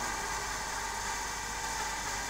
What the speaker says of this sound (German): Das ist dieses Geräusch, was dieser Elektromotor von sich gibt.